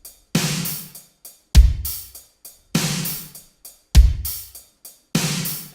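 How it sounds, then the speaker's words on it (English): Simple drum pattern programmed on Native Instruments Maschine: a deep booming kick alternates with sharp, bright hits in a steady, evenly spaced loop, clean and dry with silence between strikes. "This is the first drum pattern that I tried."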